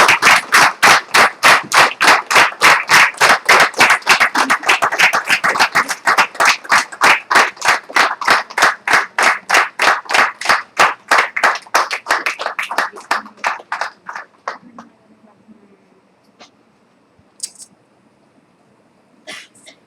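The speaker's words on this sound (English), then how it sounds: "give a big applause" Loud, steady applause from a group, rapid dense claps for about thirteen seconds before fading out, with a few scattered claps at the end.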